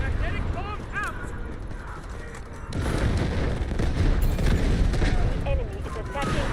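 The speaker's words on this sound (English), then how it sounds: "Magnetic bomb out!" A magnetic bomb detonates amid heavy gunfire and booming blasts in the video game Delta Force, a dense, loud barrage of explosions with a player shouting over the battle.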